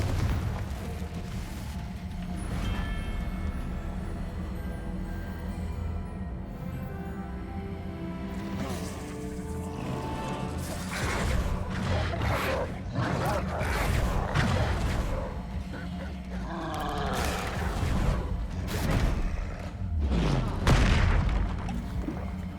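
Confringo blasting spells explode repeatedly in Hogwarts Legacy combat, heavy booms and crackling bursts scattered irregularly across a long stretch, mixed with other spell effects and game sounds, mid-level and fairly near, with some talk over it.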